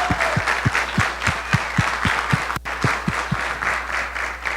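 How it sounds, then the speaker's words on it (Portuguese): A round of applause in a conference hall at a national volunteering forum for the accounting profession: steady, fairly close crowd clapping with a strong rhythmic clap cutting through, a brief dip near the middle, then the clapping continues. "Uma salva de palmas, pessoal"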